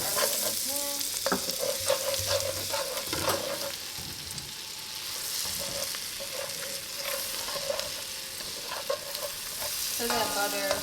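Garlic sizzling in butter in a pan, a continuous bright crackling hiss punctuated by scrapes and clinks of stirring with a utensil.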